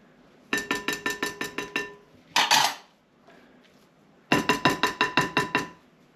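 A spoon clinks rapidly against a bowl while crab meat seafood dip is stirred, two bursts of about eight sharp metallic taps each, separated by a brief scrape and a pause.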